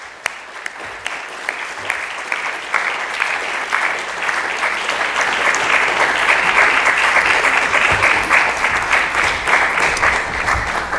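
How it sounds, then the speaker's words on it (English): Sustained applause from a crowd, steady clapping that builds slightly and keeps going throughout without talk. "we give you a round of applause as you come forward"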